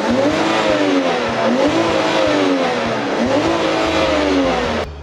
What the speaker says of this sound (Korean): 지금 한번 악셀 한번 밟아볼게요